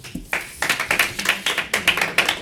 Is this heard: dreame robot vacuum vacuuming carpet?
no